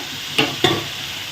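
Ripe tomatoes sizzling in a hot pan, with two quick scraping stirs cutting sharply through the steady frying hiss.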